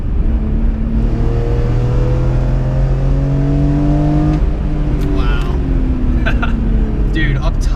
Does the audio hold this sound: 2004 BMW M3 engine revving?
yes